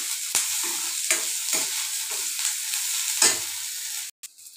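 Dried chillies, onion and garlic fry in oil, producing a bright, close sizzle that swells in several bursts as the pan is stirred, then cuts off abruptly near the end.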